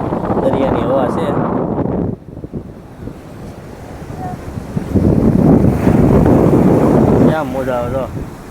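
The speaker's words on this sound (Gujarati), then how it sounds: "આપણે બેઠા બેઠા અહીંયા ઠંડો પવન ખાઈએ છે દરિયાની હવા છે" Cool sea wind blows by the coast during a truck journey from Bhavnagar to Chennai. It makes loud, buffeting rumble on the microphone, and people talk over it for much of the time.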